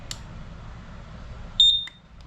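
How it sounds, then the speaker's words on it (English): A test beep from a propane LP gas detector in a Forest River Salem Hemisphere 310BHI travel trailer: a single sharp electronic tone sounds partway through, clear and fairly loud over a low background hum. "you're going to have your LP detector, which tests for propane"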